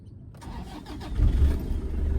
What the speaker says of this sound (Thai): เดี๋ยวเรามา สตาร์ทฟังเสียงเครื่องยนต์กันหน่อย